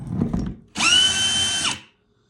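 A multi-speed handheld power drill spins up sharply, holds a steady high whine for about a second, then winds down and stops, close and loud after a brief handling rattle.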